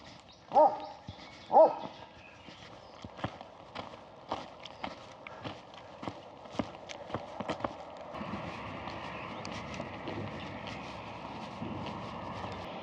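Two loud dog barks near the start, followed by scattered footsteps or hoof-like clops and a rising background hiss, on a walk along the Camino del Norte.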